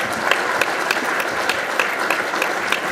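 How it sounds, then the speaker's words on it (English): Audience at a political event in Owensboro applauding a state senator, a thick, even roar of clapping from a sizable crowd, loud and sustained with no pauses. "Boy, it does feel good to get a round of applause."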